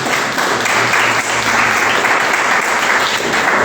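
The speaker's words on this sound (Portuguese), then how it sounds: "Você pode aplaudir o Senhor?" A church congregation breaks into loud, close applause, with dense, sustained clapping filling nearly four seconds without pause.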